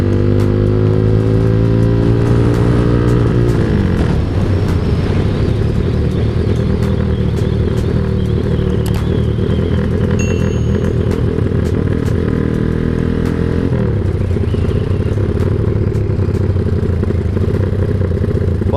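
A motorcycle with an aftermarket hexagonal CCTV-brand exhaust roars loudly and close, revving up and dropping back in long pulls, its exhaust rasping and rumbling throughout without pause.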